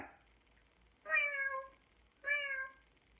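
A voice imitating a cat, giving two short, clear meows in a quiet room, each about half a second long and separated by a brief pause.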